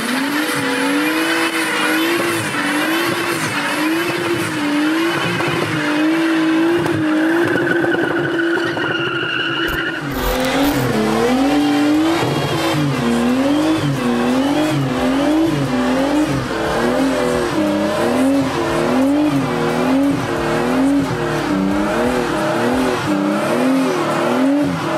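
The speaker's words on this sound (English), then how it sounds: "Then I done loads of burnouts in it." A Nissan Skyline performs burnouts, its tires squealing loudly and continuously in wavering pitch while the engine revs hard, close and dominant throughout with no talk.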